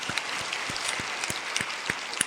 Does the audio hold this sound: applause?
yes